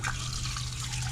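Water from a hose runs into flushing earmuffs clamped over an outboard motor's water intake on a skiff, a faint, steady hiss and trickle with no talk.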